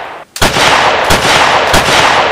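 Gunfire in a Navy SEAL action movie: three heavy, booming shots about two-thirds of a second apart, very loud, each trailing into a roaring wash of noise.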